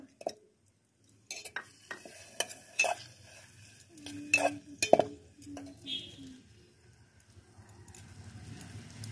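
Marinated chicken added to a pan of oil with onion paste, tomato and ginger paste, giving clattering utensil knocks and stirring scrapes followed by a soft sizzle, close up, with a faint voice at times.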